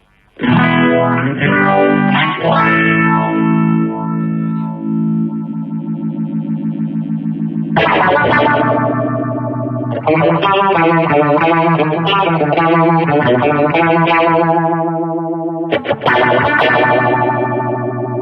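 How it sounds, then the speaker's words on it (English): A distorted electric guitar plays chords and riffs through a Vox VX15GT amp with a sweeping, swirling phaser effect, loud and continuous with short pauses between phrases. "Let's hear the phaser."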